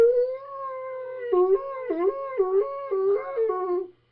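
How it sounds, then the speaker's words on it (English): A coyote howl on a recording of an instrumental song: one long, loud, close wavering howl that dips and rises in repeated yelping steps before cutting off sharply. "You actually have a coyote on that song?"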